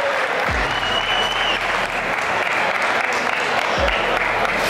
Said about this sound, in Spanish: Un aplauso para los peleadores, por favor.